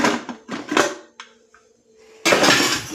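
A pressure cooker being opened after its steam has been released while making coconut rice: a few close metallic clanks and rattles of the lid, a short pause, then a loud burst of rushing noise at the end.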